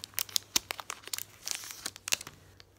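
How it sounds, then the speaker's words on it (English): A trading card pack wrapper for NBA cards is cut open with scissors, giving close, crisp crinkling and snipping of foil plastic in quick irregular bursts; quiet overall with no talking. "Got my trusty scissors right here."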